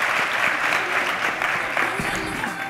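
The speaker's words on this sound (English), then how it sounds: "Round of applause for this panel." An audience at a fundraising conference panel session applauds the panel, dense steady clapping close and loud with some voices mixed in beneath it, lasting the whole short span.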